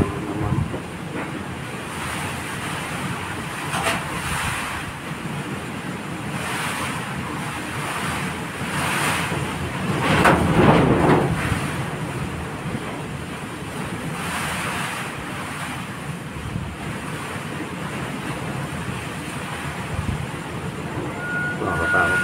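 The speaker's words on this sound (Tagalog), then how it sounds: "Yan, kung narinig sa mga lods, yung ingay ng hangin." Strong typhoon wind roars and gusts continuously, buffeting the microphone with a rushing, surf-like noise that swells briefly midway.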